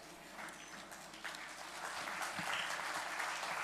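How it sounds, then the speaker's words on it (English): A university event audience breaks into applause for arriving guests, the clapping swelling from moderate to full and sustained, heard from a distance. "Let's welcome them with an applause."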